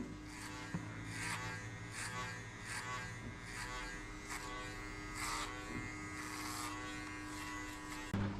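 Electric hair clippers buzz steadily through a high skin fade buzz cut, a close, continuous motorized hum with slight shifts as the blade moves over the head.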